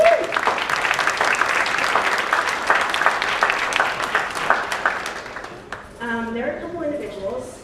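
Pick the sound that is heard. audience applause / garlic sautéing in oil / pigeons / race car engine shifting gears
audience applause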